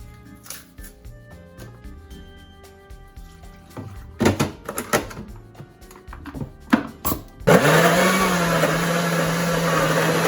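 A few scattered knocks and clatters, then a kitchen blender with water and pasta sauce ingredients roars to life and runs steadily at high speed, loud and close.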